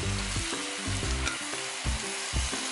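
A spicy Thai seafood stir-fry with basil leaves sizzles loudly in a pan, with rhythmic stirring knocks repeating every half second or so over the continuous frying hiss.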